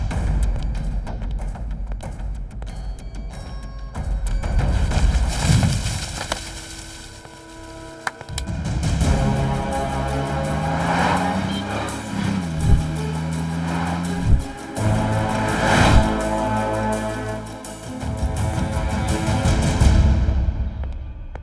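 A car drives off at speed in an action film scene, engine revving up with rising pitch sweeps and tire noise, loud and prolonged, falling and surging again as it pulls away.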